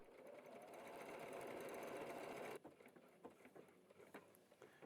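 A W6 N 9500C QPL sewing machine stitches lettering with a steady, fast mechanical whir that cuts off abruptly partway through, leaving quieter scattered clicks and taps.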